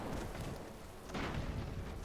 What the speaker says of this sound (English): Oh, we've got some explosions on this one.